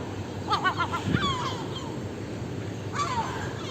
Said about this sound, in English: Lots of not happy seagulls up there.